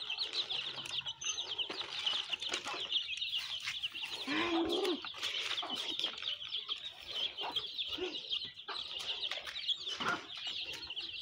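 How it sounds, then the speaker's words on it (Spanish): A crowd of chicks peep constantly in high, dense chatter, fairly faint but close, with a few louder calls and some rustling mixed in. "Ahí pueden observar ustedes los pollitos."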